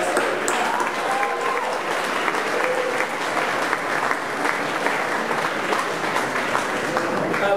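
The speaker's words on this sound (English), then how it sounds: "Let's give a round of applause." Sustained applause from a room full of people at a student venture showcase, dense clapping at a steady level from start to finish.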